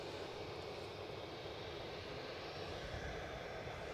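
At Edinburgh airport, a plane on final approach produces a faint, steady, far-off engine drone with no other sounds over it.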